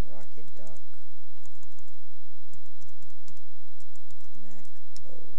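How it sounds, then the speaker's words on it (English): Quick keystrokes tap on a computer keyboard in a quiet room, a close series of light clicks, with someone talking over them at the start and end. "You want to type in Rocketdock"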